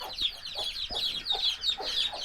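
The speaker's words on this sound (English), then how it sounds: "We've got loads more chicks." Chickens, hens with chicks, clucking close by, a run of short repeated clucks and chirps in an uneven rhythm, no talking.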